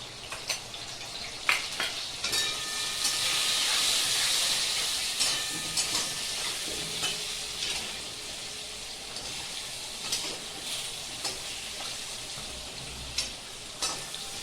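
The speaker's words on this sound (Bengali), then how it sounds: "আলুটা ভাজা হোক" A steady, bright sizzle of potatoes with salt and turmeric frying in hot oil fills the clip, with occasional clinks and scrapes of stirring throughout.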